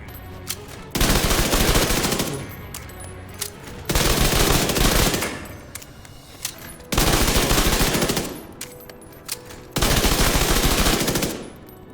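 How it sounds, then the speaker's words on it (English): Converted SMG A2 submachine gun fire in The Division 2 comes in four sustained full-auto bursts of about two seconds each, loud and close, with short quiet gaps between them. "Third round body shots. Converted SMG A2."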